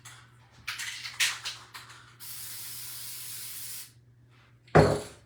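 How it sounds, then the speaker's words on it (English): Mod Podge sealant aerosol sprayed over a large Santa pillow with reindeer at a craft event, heard as several short bursts and then one long steady hiss, followed by a final brief blast. "So we're gonna spray it"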